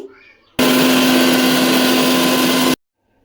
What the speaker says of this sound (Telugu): ఇప్పుడు వీటిని అయితే ఒకసారి మిక్సీ అయితే పెట్టేసుకుంటున్నాను